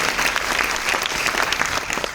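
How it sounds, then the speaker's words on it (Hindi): Audience at a business seminar breaks into steady, dense applause, many hands clapping together close by with no pauses. "तालियां नहीं बजाओगे?"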